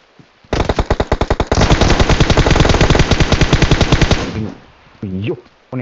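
Rapid automatic gunfire in PUBG Mobile rattles loudly and close, a few spaced shots followed by a long sustained burst lasting several seconds, then a brief voice before firing resumes.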